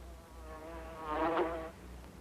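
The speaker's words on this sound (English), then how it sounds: "Have you ever known your bees to swarm anyone, Mrs. Van Bolen?" A steady insect buzz of killer bees hums throughout, swelling louder for a moment near the middle before easing back, in a 1974 TV movie.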